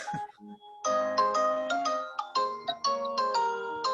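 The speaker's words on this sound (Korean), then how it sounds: "유가순 자매님 전화 받으시고요" A mobile phone ringtone plays a bright, repeating melodic tune during a church meeting, loud and continuous for several seconds after a brief moment of speech.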